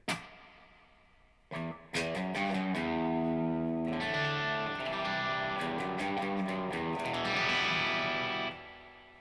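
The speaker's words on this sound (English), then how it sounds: "It is a passable spring reverb and there's plenty of control of it." Electric guitar chords through a spring reverb pedal ring out with a springy, splashy reverb tail, sustained and fairly loud, with a few plucked notes before the full strums.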